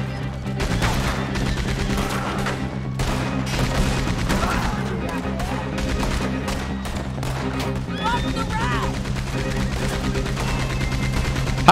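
Gunfire in Red Dead Redemption 2, with repeated sharp shots cracking out over a busy game soundscape that also carries horse whinnies and music, while players talk throughout.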